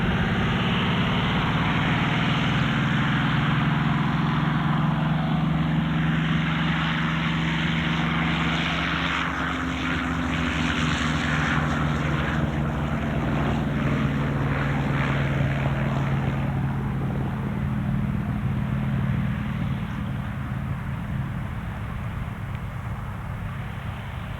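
Aircraft at a 1992 air show in Bowling Green, the drone of a propeller engine holding steady and loud for the whole stretch with slowly shifting pitch.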